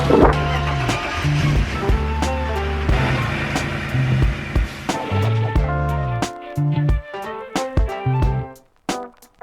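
Porsche 911 Turbo with a blown front axle CV joint driving slowly, engine droning close to the microphone with irregular clicking and clunking from the drivetrain, the engine note dropping toward the end as the car eases off.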